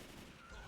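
Gunfire in the video game Left 4 Dead 2 comes as a brief, dense burst of rapid shots, loud and close, filling the whole short moment without speech.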